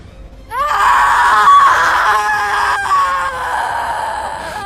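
A ghostly shapeshifting creature in a Hindi horror tale lets out a loud, wavering shriek that swells and bends in pitch for several seconds, with ringing high overtones, heard on its own.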